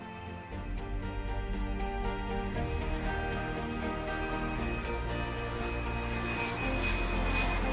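Helios Flight 522 airliner taking off from Larnaca International Airport, a steady loud jet engine roar that builds slightly, with a continuous low rumble.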